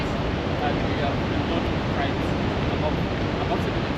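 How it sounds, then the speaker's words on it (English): Victoria Falls near Livingstone, Zambia, pouring huge volumes of water, a dense, continuous roar and hiss of falling water heard from nearby, steady and unbroken, with some wind buffeting the mic. "This waterfall is absolutely incredible. Huge, lots of water today."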